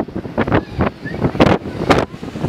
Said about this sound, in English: Making the most of the wind.